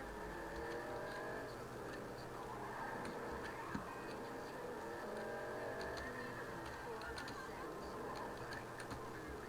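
An open-top convertible drives in Grand Theft Auto V, giving a steady, moderately quiet engine hum with small ticking sounds throughout.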